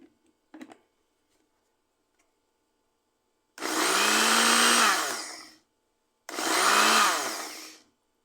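An electric mixer-grinder blends mint chutney ingredients with dried red chillies and garlic in two loud, close whirring bursts, each about two seconds long with a brief pause between, after a couple of faint clicks.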